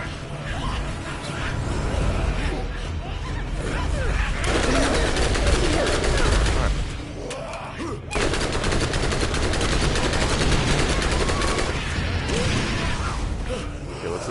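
Borderlands gunfire runs as dense, continuous rapid bursts of shots with mechanical clatter, loud and near throughout, with only brief lulls.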